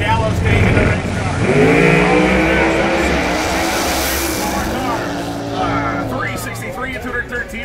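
Turbocharged radial drag racing car staging and launching at a drag strip finals event, a loud sustained engine roar with rising harmonic sweeps, under a race announcer's continuous commentary.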